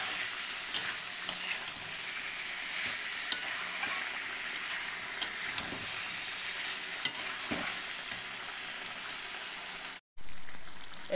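Steamed broccoli with fried potatoes and fish stir-frying in a pan: a steady, soft sizzle broken by scraping stirring strokes, quiet throughout, cutting out briefly near the end.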